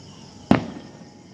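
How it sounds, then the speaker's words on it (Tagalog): A single firework bang pops out of a quiet background hiss outdoors after a church Mass in Bohol, Philippines, sharp and brief with a short trailing rumble. "mauna nga naay fireworks"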